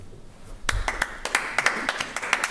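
Audience at a regional addiction-medicine conference workshop clapping after a talk, scattered claps from a small group that build into uneven, fairly faint applause heard from the room.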